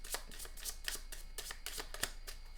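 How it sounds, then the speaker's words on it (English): Tarot cards are shuffled in quick, soft riffling bursts, close and quiet, a steady flurry of papery flicks with no voices. "Just do a couple more shuffles"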